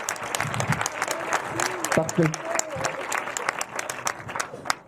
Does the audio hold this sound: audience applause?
yes